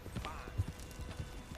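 A horse galloping in Red Dead Redemption 2, a quick rhythmic patter of hooves at moderate volume under a voice urging the horse on.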